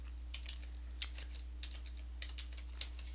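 Keys tapped on a computer keyboard to enter a login number, a sparse run of light, separate clicks over a steady low hum, close and fairly quiet with no talking.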